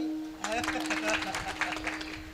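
Applause from an audience at a teacher's retirement felicitation ceremony, a dense burst of clapping starting suddenly and continuing steadily, with a steady tone running underneath.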